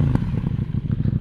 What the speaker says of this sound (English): I can't believe that's a stock exhaust. The KTM 790 Duke.